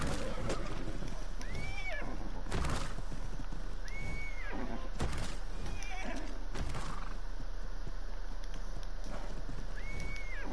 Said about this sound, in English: this horse just neigh